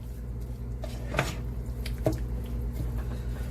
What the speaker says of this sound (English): Mix our broccoli in.